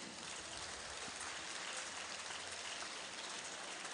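An audience at a pharmacy conference plenary session applauds. The steady, dense patter of many hands clapping continues without break and sounds somewhat distant and soft, with no talking.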